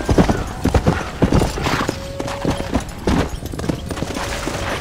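Steady clip-clop of horse hooves trotting close by in the video game Red Dead Redemption, mixed with game sounds and brief tonal beeps, no talking.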